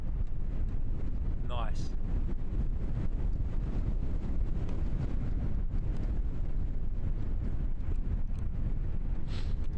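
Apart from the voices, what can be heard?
wind blowing into microphone outdoors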